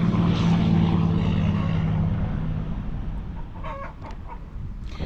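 Chickens clucking in a backyard coop around egg-laying time, a steady busy murmur of hens close by that fades somewhat in the second half, with a few sharper calls near the end.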